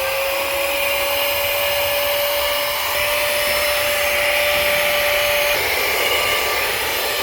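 A small Baseus handheld car vacuum motor whines steadily at close range, a constant high-pitched hum that shifts slightly in tone near the end as it picks up small stars.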